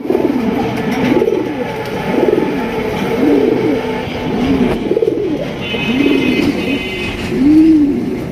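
Red checker Rajgolla pigeons coo in a steady series of low, rounded calls, repeating about once a second at close range with no talk over them.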